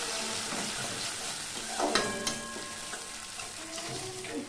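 A spice paste of cumin, ginger paste, chilli and garlic sautéing in oil, a steady close sizzle with a few stirring scrapes and a louder burst midway.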